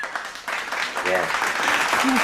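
Applause from an audience, a steady broadband clatter of clapping with some voices mixed in.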